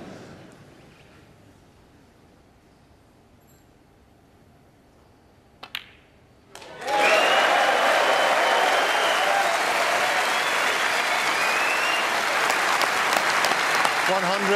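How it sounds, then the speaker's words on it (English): Snooker audience at the 2018 Masters semi-final, quiet room with a couple of ball clicks, then loud sustained applause with some cheering breaking out and continuing to the end. "we like the nice cheer"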